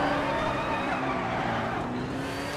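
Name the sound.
racing car engine from a racing video game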